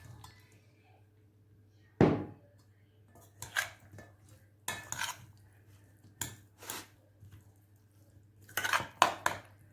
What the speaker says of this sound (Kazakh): Ендігі үстіне салып баклажанымызға араластыратын боламыз